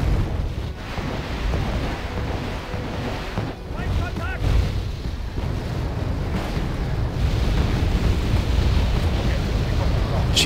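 Roaring rush of aircraft passing over in the Wargame: Red Dragon strategy game, a loud, continuous windy whoosh that swells and sustains through the whole stretch, dense and broadband with no talk.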